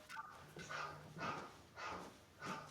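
A phone alarm ringtone imitating a dog barking, four quiet barks spaced roughly half a second apart, faint and with no talking over them.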